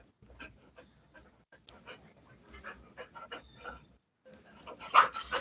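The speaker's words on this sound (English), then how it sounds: "That's the dog." A dog panting and whimpering during a town zoning board meeting held over an open microphone, with short, irregular breathy pants and soft whines coming close and clear, and a louder burst near the end.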